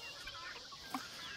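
Faint chickens clucking softly while being fed supper on a backyard farm, scattered small clucks over a steady low background hiss, one slightly sharper cluck near the end.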